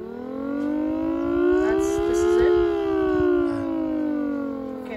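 Small 3D-printed replica of a Thunderbolt 1003 siren running without its blower, a steady loud wailing tone with rich harmonics that rises and falls gently over five seconds, close and continuous.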